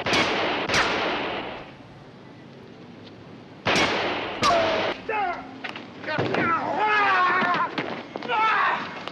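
Gunshots ring out in a dramatic TV crime scene: a sharp close crack, a second shot right after, and another a few seconds later. Each shot echoes briefly, and excited voices follow.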